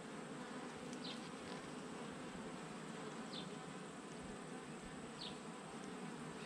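A dense swarm of honey bees drones continuously at an opened hive during a state inspection for American foulbrood, with a steady close buzz and a few brief higher whines from individual bees passing near.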